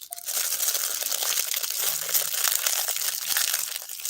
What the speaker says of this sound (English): So like that's when people eat and they just crumple up stuff.